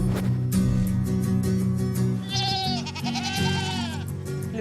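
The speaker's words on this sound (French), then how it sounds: "avec Gladys, on y va pour vérifier si notre petite chèvre a déjà mis bas" Goats bleat in their pen, several wavering calls overlapping at close range over a steady low background hum, with no talking.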